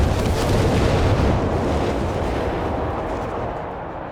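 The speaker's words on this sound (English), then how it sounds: "Smothering it in incendiary bombs" Incendiary bombing run in Company of Heroes 3 produces a dense, rumbling wall of overlapping explosions and crackling fire, loud and continuous, slowly fading over a few seconds.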